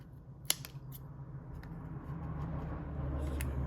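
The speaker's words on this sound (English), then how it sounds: "I'm gonna trim off the excess here." Scissors trimming excess paper from a stamped flower for ephemera crafting, a few faint crisp snips near the start over a low steady room hum.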